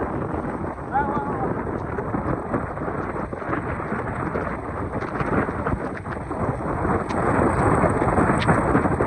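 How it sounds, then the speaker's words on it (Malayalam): Steady rain falls on a road in Snehatheeram, a dense continuous hiss with low rumbling thunder underneath, while a person speaks briefly over the downpour. "മഴ മഴ മഴ"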